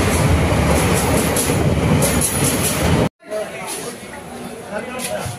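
The Kanchan Kanya Express rolls into Bardhaman station, a loud, steady rumble of wagons with rhythmic wheel clatter, briefly cut off, then continuing more quietly with a voice speaking over it.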